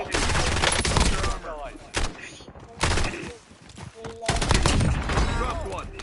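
Rapid gunfire in a shooter video game, dense bursts of shots in several loud clusters separated by short lulls, with a voice talking over the fighting.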